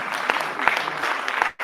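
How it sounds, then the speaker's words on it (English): Audience applause at a democracy and human rights festival, a steady burst of many hands clapping that carries on for over a second and then cuts off abruptly. "Round of applause, gentlemen."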